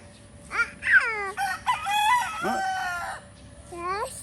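A rooster crows a few times, each call a rising-then-falling strained cry, fairly close and loud.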